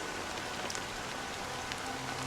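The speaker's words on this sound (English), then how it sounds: "But it's still raining." Steady rain in the game Honkai: Star Rail, a dense, even hiss of falling drops with occasional brighter patters, continuous and fairly loud, with no voices.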